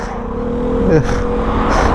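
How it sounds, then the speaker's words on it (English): Scooter fitted with a Scorpion exhaust passing by on a busy road along the Dorset coast, a brief loud engine sweep rising and falling over steady traffic noise close at hand. "You got nice scorpion exhaust on that scooter though."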